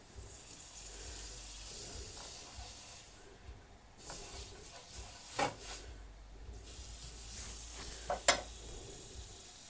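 Butter sizzling in a frying pan while making egg toast, a steady soft hiss with occasional stirring clatter and a sharp utensil tap near the end.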